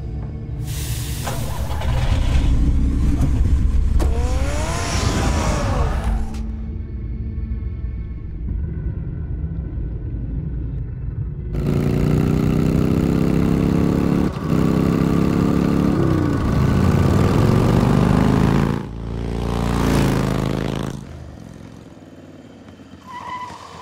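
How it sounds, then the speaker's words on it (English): Car engine revving and rumbling in the Batman Telltale Season 1 game, loud and continuous with rising and falling surges and brief screeching moments, a short quieter stretch in the middle and no talk. "Get the car ready, Alfred"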